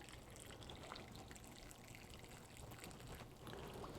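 Reverse osmosis water pours steadily over a brisket in a crock pot, a faint continuous splashing trickle heard close with no talking.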